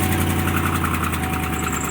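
A car engine idling after startup, a steady low rumble with a faint rhythmic ticking that may point to an exhaust manifold gasket leak, close and loud with no talk.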